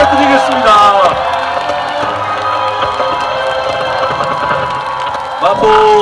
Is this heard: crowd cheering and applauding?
yes